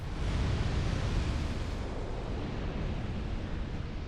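A deep, continuous explosion roars in the video game Dark Souls, a loud broadband rumble that holds steady for several seconds with no talk over it.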